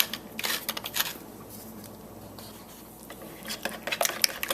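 Five eggs are whisked with mayonnaise and ground pepper in a bowl, bursts of quick rhythmic clinking and tapping with a quieter pause in the middle.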